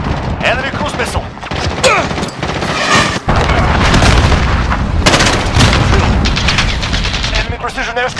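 Heavy battlefield din from Call of Duty: Modern Warfare on the Grazna Raid map: continuous loud gunfire and booming impacts from an enemy cruise missile strike, with voices calling out over the dense, unbroken barrage.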